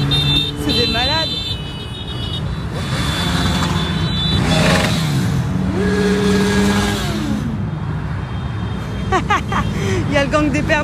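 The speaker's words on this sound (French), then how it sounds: "Il y a le gang des Pères Noël en moto." Motorcycles ridden by a gang of bikers dressed as Santa Claus pass along a busy street, engines rising and fading close by amid traffic noise, with excited voices talking over them.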